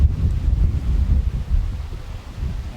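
Strong wind gusts buffet the microphone in an exposed coastal village, a loud low rumbling roar that surges and eases continuously with no voices.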